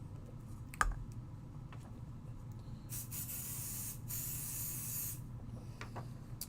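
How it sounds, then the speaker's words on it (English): Pixie Spray is misted onto a stencil in two short hissing bursts, the first about a second long and the second slightly longer, close and moderately loud, alongside a few faint clicks. "we are going to hit this with a little bit of Pixie Spray."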